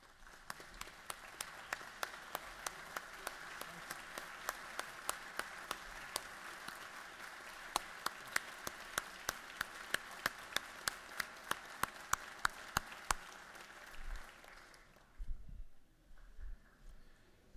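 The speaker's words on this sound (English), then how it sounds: "So I want to give you a round of applause." Members of the Georgia House of Representatives give a round of applause in the chamber, steady scattered clapping at moderate distance that fades out toward the end, followed by a few thumps.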